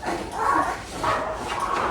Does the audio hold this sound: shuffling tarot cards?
no